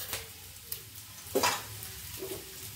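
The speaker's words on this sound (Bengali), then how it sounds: "হলুদ দিয়ে নেড়ে চেড়ে ওই মানে জলটা দেবো" Broken rice and turmeric are stirred in a pan, with a handful of scattered scraping strokes, one louder in the middle, over a light sizzle, close by with no speech.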